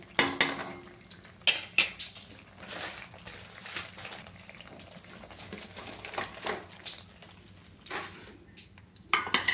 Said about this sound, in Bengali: আমার মাছটা হয়ে গেছে, এখন আমি ঢেলে নিচ্ছি।